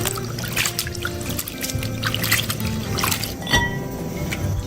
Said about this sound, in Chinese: 准备上一把青花椒，洗一下。